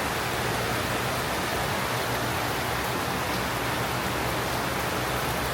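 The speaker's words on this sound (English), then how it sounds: "Look at this rain now." A heavy rain shower pours down steadily in gardens in Singapore, a dense, even hiss of falling water with no voices over it.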